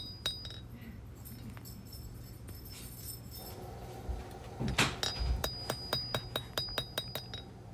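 A knife blade is hammered on a brand-new blacksmith's anvil while its point is drawn out. Faint, bright metallic strikes start sparse, then settle into a steady run of evenly spaced ringing blows near the end.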